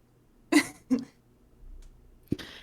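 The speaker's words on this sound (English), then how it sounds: "Cough, cough." Two short coughs close together, then a sharper third burst a moment later, close and fairly loud against a quiet background.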